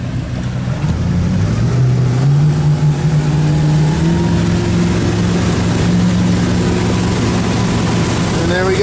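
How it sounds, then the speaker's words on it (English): Four Winns 200 DLX motorboat with dented propeller throttling up from idle and climbing onto plane, its engine note rising steadily and staying loud and close for several seconds over rushing water. "I'll give a quick demo of it coming up on plane."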